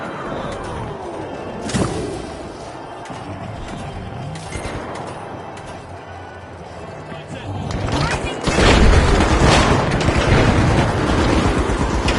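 A frag grenade blast in The Finals game-show arena, part of a dense chaotic battle mix of whooshes, impacts and rumbling, swelling into a heavy booming burst near the end.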